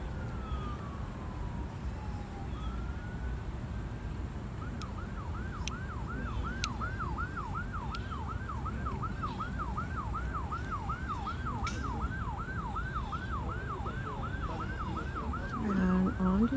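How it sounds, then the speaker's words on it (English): A wailing emergency siren cycles rapidly up and down in the distance, steady and continuous over low background rumble. "Can you hear the siren in the background?"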